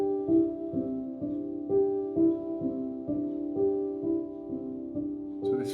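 A felted piano plays a soft, muted ostinato figure in a major key that loops round and round, a steady rhythmic cycle of mellow repeated notes heard alone and fairly close.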